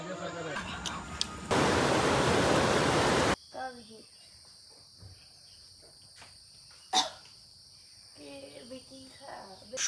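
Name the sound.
crickets chirping loudly in the hills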